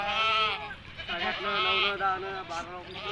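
Goats and kids bleat at a village livestock market, a wavering nanny-goat cry that sounds almost continuously, close and loud, mixed with talking.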